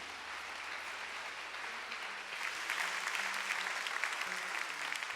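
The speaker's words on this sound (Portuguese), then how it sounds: "Quer aplaudir? Aplaude, filho." Church congregation applauding during a sermon, steady dense clapping throughout that swells louder about halfway through, with faint low tones underneath.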